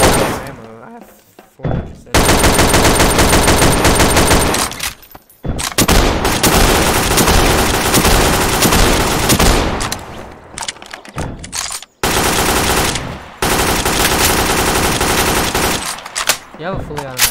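Fully automatic gunfire in the video game Garry's Mod rattles in long, loud, dense bursts that come close together and are broken by brief pauses, with voices talking through the shooting.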